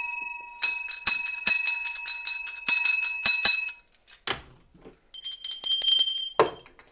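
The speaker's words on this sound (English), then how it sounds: "hit the notifications or the ding dong noise" A bright bell rings in a quick run of repeated dings, pauses, then chimes again in a second shorter burst, clear and close with no talking.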